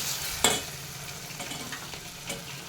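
Turmeric, chili masala, salt and chopped vegetables go into a hot frying pan for Bhogi bhaji, giving a soft steady sizzle with one sharp scrape of stirring early on and a few lighter stirs after, no talking.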